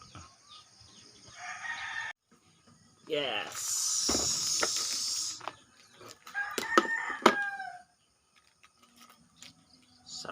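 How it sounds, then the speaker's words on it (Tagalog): Roosters crow and chickens cluck in bursts of calls. Voices talk between and over them. "Mga manok."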